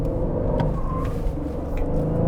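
An Aston Martin Vantage sports car slows under braking, its engine a steady, close, loud low rumble with faint road noise and no talk.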